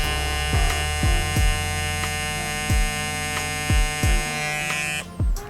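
A Gamma+ Ergo cordless hair clipper with a linear magnetic pivot motor runs at high stroke speed, giving a steady loud buzzing hum, interrupted by a series of sharp clicks and thumps as it is handled.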